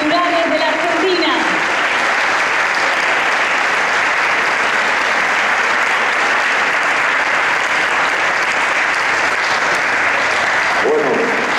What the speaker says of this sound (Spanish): Fuerte el aplauso a partir de ahora.